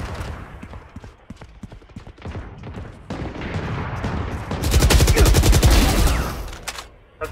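Gunfire in a Valorant match on the Split map, rapid clattering shots and bursts building to a dense, loud volley of automatic fire before cutting off abruptly.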